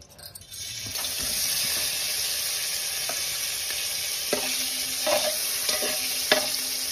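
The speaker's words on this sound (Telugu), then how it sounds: "పన్నీర్ స్లైసెస్ని వేయించుకుందాం." Paneer slices fry in a spoonful of hot ghee in a biryani handi, giving a steady close sizzle with a few light scrapes and clinks of stirring and no voices.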